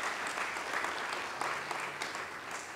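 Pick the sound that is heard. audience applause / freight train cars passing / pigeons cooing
audience applause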